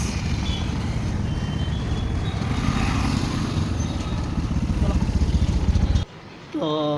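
A Yamaha FZ Fi motorcycle being ridden gives a steady engine drone with road rumble throughout, then cuts off abruptly near the end, and a brief series of electronic beeps follows.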